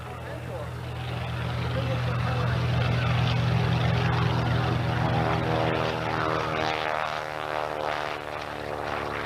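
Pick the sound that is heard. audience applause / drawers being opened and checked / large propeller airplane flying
large propeller airplane flying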